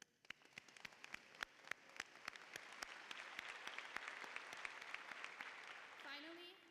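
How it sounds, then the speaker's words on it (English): A commencement crowd claps in a steady round of applause, sharp individual claps over a dense wash, building slightly before a voice begins at the end. "Let's give them a round of applause for all they've done."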